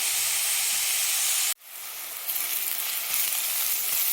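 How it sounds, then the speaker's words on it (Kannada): Chopped onions with rock salt fry in oil in a pan for upma, giving a steady, close sizzle that cuts out abruptly for a moment and then builds back to a strong hiss. "ಈರುಳ್ಳಿ ಚೆನ್ನಾಗಿ ಫ್ರೈ ಆಗಲಿ."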